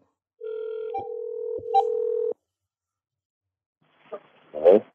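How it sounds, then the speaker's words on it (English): A telephone tone sounds steadily for about two seconds as a call is dialed, broken by brief clicks, then silence and a short burst of faint distorted phone noise near the end. "I'll call on his phone, and then I'll keep you on the phone"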